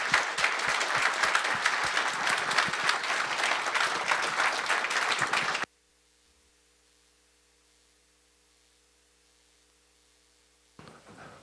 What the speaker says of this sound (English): please, let's give a warm round of applause for Scott Thomas.